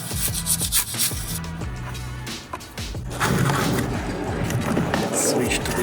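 A brush scrubs a car wheel in rapid rubbing strokes close to the microphone, the bristle scratching growing denser and louder in the second half, with speech mixed in.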